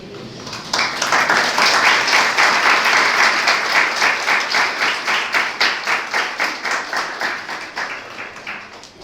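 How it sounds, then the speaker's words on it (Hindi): A lecture audience on the Brahma Samhita in Surat breaks into sustained, loud applause, dense at first and then settling into a rhythmic, steady clapping that continues alone for the full stretch. "अब आप लोग ताली बजा रहे हैं"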